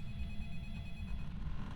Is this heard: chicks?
no